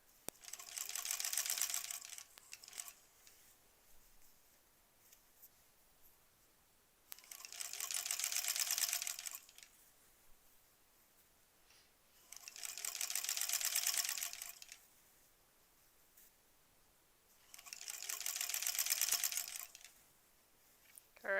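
A sewing machine stitches quilt block seams for a granny squares quilt, running in four steady whirring bursts of about two to three seconds each, separated by quiet pauses, close and fairly loud with no talking.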